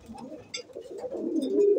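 Pigeons coo on a home rooftop loft, a steady low throaty burbling from several birds close by that builds gradually louder, with no voices.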